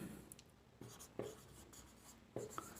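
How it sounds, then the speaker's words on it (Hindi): Marker or chalk strokes on a board during an English grammar lesson, a few quiet scratchy strokes in short bursts with pauses between, fairly near and faint, with no talking. "तो चलिए कुछ हम लोग लिखते हैं थोड़ा सा"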